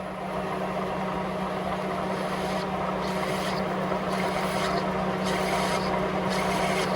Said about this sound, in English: So when I turn on the lathe, I'm going to come in and I'm going to peck.